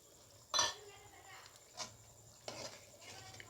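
A spoon stirs and mixes dahi chicken in a pan over low heat, with a few brief scraping clinks against the metal, spaced out and fairly quiet, over a faint low hum.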